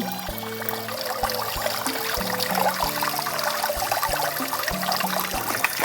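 Water and floating ant eggs are poured into a sieve, a steady splashing trickle of running water under a melodic music track with a repeating bass line.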